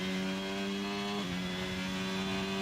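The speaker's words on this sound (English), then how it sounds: "Oh, is there the audio bug?" A steady, droning car engine tone from the F1 22 racing game, stuck at a constant pitch with a slight drop partway through, loud and continuous with no talk.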